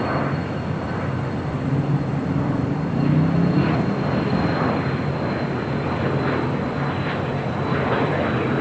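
An American Airlines A321 airliner arriving at LAX, its engine roar a steady broad rumble heard from a distance, swelling slightly midway and holding as it passes.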